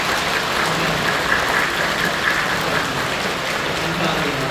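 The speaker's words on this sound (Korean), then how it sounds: "성도 여러분들 크게 박수로 환영해 주시면 감사합니다" A church congregation applauds to welcome first-time visitors, a loud, unbroken, rain-like roar of many hands clapping at once, sustained evenly throughout.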